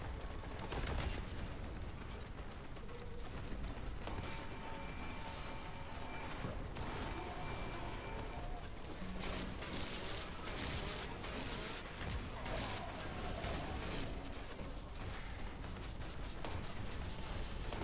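Continuous gunfire from Warhammer 40,000: Boltgun, repeated heavy shots layered over loud game music and clanking effects, staying dense and unbroken throughout.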